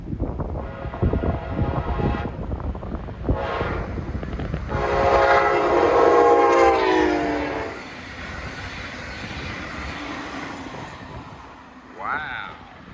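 A northbound Brightline passenger train passes in Sebastian, Florida, sounding a loud sustained horn blast as it approaches close by, followed by the rushing roar and rail clatter fading away, with a brief faint horn echo near the end.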